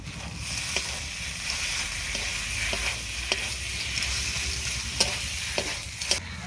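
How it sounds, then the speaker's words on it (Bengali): Cooked taro leaves being stirred with ground garam masala in a pan, a soft continuous sizzle under occasional light scrapes and taps of the spoon, moderately quiet and close, no voices. "এইবার দিয়ে নেড়ে চেড়ে নামিয়ে নেব"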